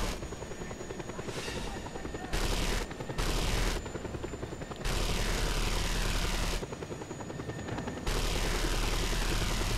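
Helicopter flying in the video game Just Cause 2, a loud steady rotor and engine drone that continues throughout with abrupt shifts in tone, heard alone without talk.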